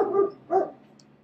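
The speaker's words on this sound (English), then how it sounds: "Got my dog mad too." A dog lets out two short, muffled barks close together, then falls quiet.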